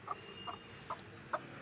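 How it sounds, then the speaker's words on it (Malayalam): A hen cluckles in short, separate bursts, four quick clucks spaced roughly evenly and heard close, over a quiet background with no talking. "ഇതാണ് പിടക്കോഴി."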